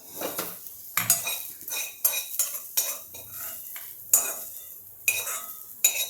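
Metal utensil scraping and clinking against a pan in a series of sharp strokes, food being scooped onto a plate after the gas is turned off, with a faint sizzle between the scrapes.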